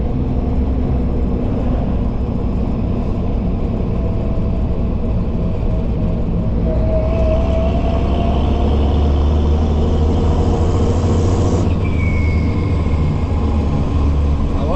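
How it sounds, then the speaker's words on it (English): A car comes along a rural road and passes close by, its steady rumble rising and then falling away, with a slower silage truck on the same road and a continuous low engine drone underneath. "car coming and silage truck doesn't accelerate nearly as fast as the car"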